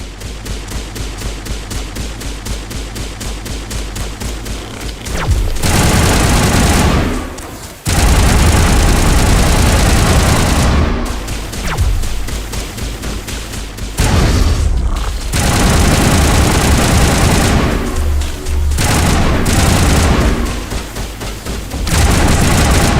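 Heavy gunfire from a Mass Effect 1 Legendary Edition battle against the Geth on Virmire: loud sustained automatic bursts and booming crossfire, broken by short pauses, with no talk.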